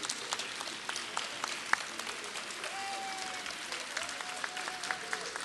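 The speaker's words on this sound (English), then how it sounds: "if we can give our veterans a round of applause" An audience applauds veterans at a high school salute event in an auditorium, with steady, moderately distant clapping throughout and sharp individual claps and faint tonal sounds mixed in.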